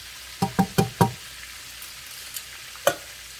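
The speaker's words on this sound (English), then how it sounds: "Still need to fry a little bit more." Shrimp frying over high heat in a pan, with a quick burst of four sharp stirring knocks and sizzles followed by a couple of softer isolated clinks, close by with no talk.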